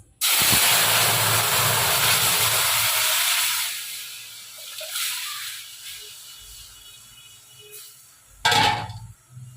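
Pumpkin dal poured into a hot tempering of spices in a pan, an intense burst of sizzle and steam hiss that loudly fills the first few seconds, then settles into a quieter bubbling boil before a brief sharp splash near the end.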